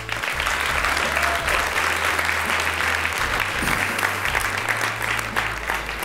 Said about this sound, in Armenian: Ծափար ենք, հա, Գարիկին։